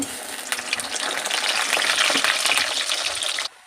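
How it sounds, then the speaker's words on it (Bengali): Khasta pastries with a leaf design fry two at a time in hot oil, giving a loud, steady crackling sizzle that runs for a few seconds and then stops abruptly. "এখন দুটো করে ভেজে নেব"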